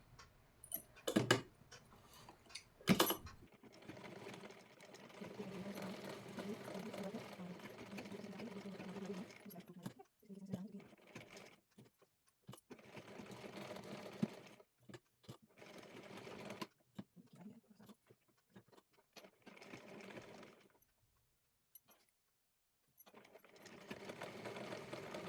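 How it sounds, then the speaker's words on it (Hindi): Domestic sewing machine stitching a blouse in bursts of rapid, steady whirring, starting and stopping several times between short pauses, with occasional clicks and brief talk in between. "अब हम सिलाई लगाना स्टार्ट करते हैं"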